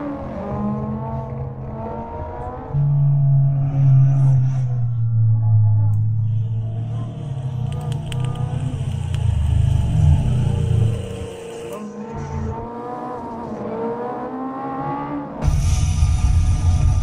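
A Deathwish Garage Veilside RX-7 in a racing video game at Rusty Valley Raceway drones and revs steadily, its engine pitch climbing and falling through gear changes over several seconds, loud and close.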